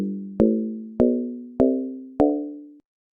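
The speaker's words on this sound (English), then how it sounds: "so here's the sound of the kettle drum." Synthesized kettle drum tones: four separate struck notes, each with a sharp attack and a smooth, humming decay, rising slightly in pitch and evenly spaced, clean and alone.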